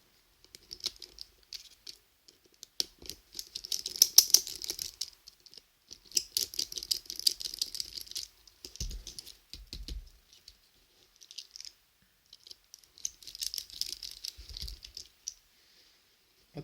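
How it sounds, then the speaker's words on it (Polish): Small Phillips screws being unscrewed during disassembly of a Sony Ericsson K850i phone, heard as faint, close-up clicking and scratchy ticking in irregular bursts, separated by quiet pauses. "Śrubki krzyżakowe, odkręcamy te śrubki."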